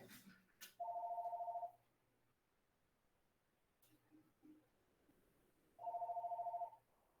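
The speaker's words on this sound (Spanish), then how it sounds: "Es que el teléfono." A telephone ringing during a statics class, two separate electronic ring bursts about five seconds apart, each roughly a second long, clear against a quiet room with faint background noise between them.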